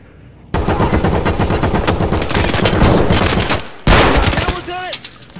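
Loud, close automatic gunfire in Escape From Tarkov comes in a long rattling burst, then a short gap and a second burst, ending in a rising electronic whine.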